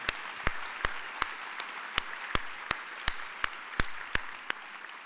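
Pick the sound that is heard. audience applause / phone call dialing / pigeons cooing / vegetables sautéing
audience applause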